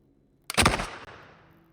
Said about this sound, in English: Yeah, I fired the musket off.